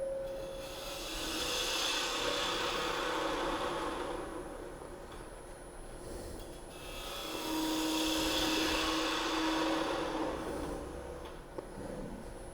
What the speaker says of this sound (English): I'm just going to take my gouge and take out some of that.